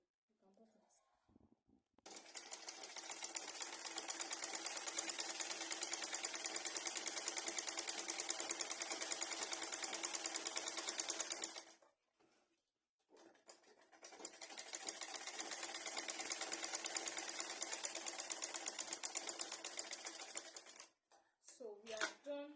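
A sewing machine stitching kimono fabric, running in two long steady bursts of fast even mechanical chatter with a short pause between, close by with brief quiet moments before and after.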